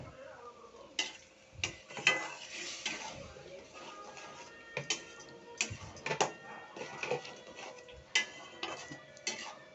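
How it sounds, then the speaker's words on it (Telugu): Spice mixture frying in gravy for eggplant curry: soft sizzling under repeated scraping and tapping of a spoon against the pan, irregular and fairly faint, with no talking. "ఆ మిక్చర్ వచ్చేసి ఆ గ్రేవీలోకి వేసి బాగా ఫ్రై చేసుకోవాలి"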